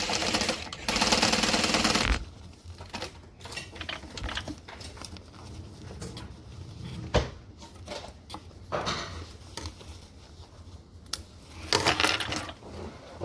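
A domestic sewing machine stitches a seam in short bursts, a loud whirring run at the start followed by quieter intermittent stitching, clicks and fabric handling.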